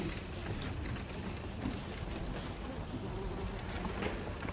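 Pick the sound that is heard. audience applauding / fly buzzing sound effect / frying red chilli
fly buzzing sound effect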